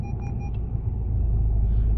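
A 2013 Volkswagen Passat B7 steers itself while self-parking, its engine a low steady idle rumble heard close up inside the cabin, with faint chimes early on and no talking.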